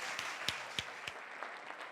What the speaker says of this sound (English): Please give them a round of welcoming applause.